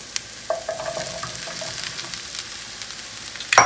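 Onions and cauliflower florets frying in a pan for a coconut milk soup, with soft continuous sizzling, occasional stirring scrapes and a sharper clatter near the end.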